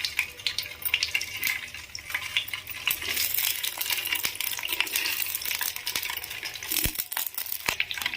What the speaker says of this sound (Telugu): వీటిని మంచిగా ఫ్రై చేసుకోవాలి.